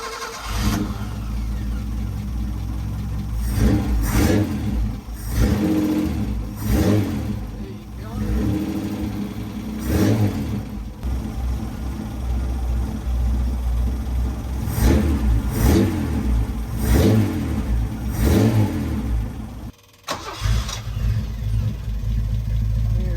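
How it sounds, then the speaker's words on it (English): A hot rod's engine under restoration cranks and fires, then revs in repeated bursts of rising and falling roar, loud and close, with brief idle gaps between blips and a short cut near the end. "Need to tune the engine up a bit"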